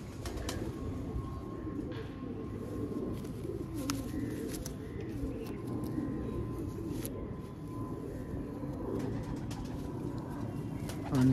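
A red-check cock pigeon for sale gives low, steady cooing that runs continuously and fairly close, over a faint background hum.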